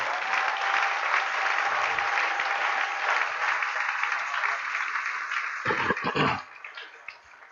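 A church congregation at a worship service applauding the Lord, sustained dense clapping from many hands that fades toward the end, with some shouts mixed in.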